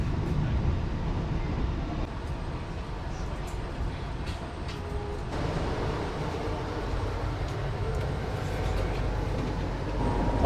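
Extra Gambir–Jogja passenger train arriving at Cikampek station, heard from on board as a steady low rumble and rolling noise throughout, with no clear voices.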